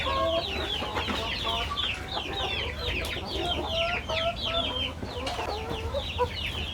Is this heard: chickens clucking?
yes